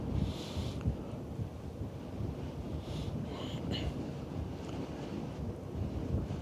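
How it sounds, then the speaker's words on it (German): Steady low rumble of wind buffeting a microphone aboard a cruise ship entering Ålesund, Norway, continuous and fairly loud throughout with no other clear sounds. "Ist noch ein bisschen windig."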